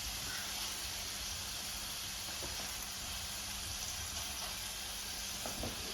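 Meatballs made from mince browning in a crowded pan, giving a steady, even sizzle and hiss throughout, quiet and continuous with no speech.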